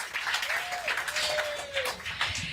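Audience applause at a campaign event in a Pennsylvania restaurant, a steady wash of clapping from a crowd, moderately loud, with a faint voice and a whistle in the mix.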